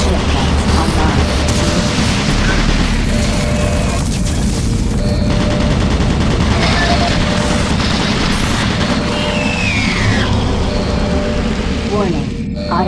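Automated turret guns fire continuously in the sci-fi shooter Doom 3, a dense, loud barrage of booming shots and rattling bursts with no letup, overlaid by a synthetic announcer voice and mechanical whirs.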